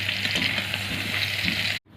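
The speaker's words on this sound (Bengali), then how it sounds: "ফুলকপিটা ভাজার ফুলকপিগুলো দিয়ে দেবো।" Cauliflower florets with a pinch of turmeric fry in oil in a wok, giving a close, steady, dense sizzle that cuts off abruptly near the end.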